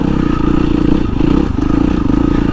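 A 450 dirt bike fitted with a Rekluse clutch growls loud and close while crawling up steep, technical terrain, its engine steady with rattling and scraping from the rough ground.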